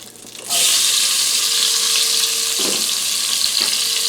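Half an onion drops into hot oil for a grandmother-style pot roast and bursts into a loud, sudden sizzle that holds as a close, steady crackling hiss.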